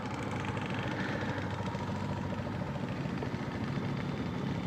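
A Kawasaki D-Tracker 250cc single-cylinder motorcycle engine runs steadily at a low, even pulse, fairly quiet and alone with no talk.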